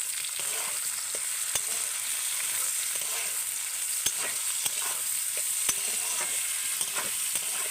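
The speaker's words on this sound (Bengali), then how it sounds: "ক্যাপসিকাম দেব পেঁয়াজ কুচি আর দেব কাঁচা লঙ্কা কুচি এগুলোকে কিন্তু আমি আরেকটু ভালো করে এর সাথে ভেজে নেব" Capsicum, chopped onion and green chilli frying in a pan, a loud, steady sizzle punctuated by frequent clicks and scrapes of stirring throughout.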